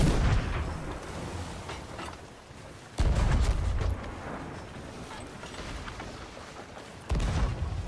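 Heavy booms of ship cannon fire in a video game naval battle, two loud blasts a few seconds apart over a continuous rumbling battle din.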